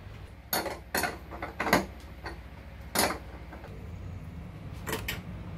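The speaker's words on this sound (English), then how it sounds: "So I'm gonna undo those bolts and separate them" Faint metallic clicks and clanks as bolts are undone to separate electrical wires during warranty work, a few scattered taps and scrapes spaced out over a quiet background, no talking.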